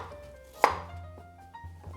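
A single sharp knife chop through onion on a board, close and crisp, followed by a couple of quieter taps and a low background hum.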